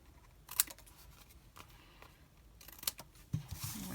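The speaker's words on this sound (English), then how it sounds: "turn it over and snip off the edges" Scissors snip the edges of thick white cardstock for a tent fold card, a few quick, faint crisp cuts spaced apart against a quiet background.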